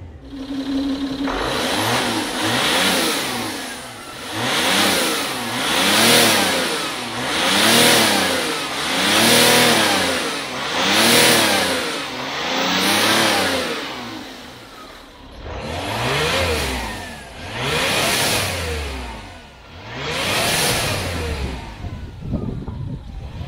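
A Citroën C6 engine runs while warming up, revved repeatedly in long rising and falling swells with a rough, slightly knocking tone, loud and close with brief pauses between revs.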